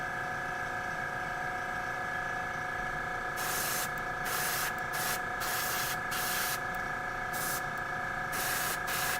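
An airbrush hisses paint onto Warhammer 40k Genestealer miniatures in short, repeated bursts of varying length over a steady background hum, fairly faint and close by.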